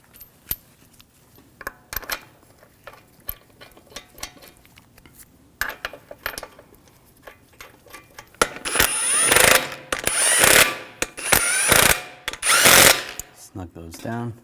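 A hand ratchet clicks in quick, sharp bursts while snugging down lug bolts on a 2001–2009 Volvo S60 wheel, with faint scattered clicks first and then several louder, denser runs near the end. Someone talks softly at times.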